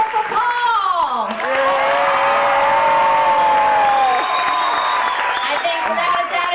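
A cruise-ship audience cheers, whoops and applauds for a contestant named Paul, a dense crowd sound held steadily at close range for several seconds, with a voice carrying over the noise.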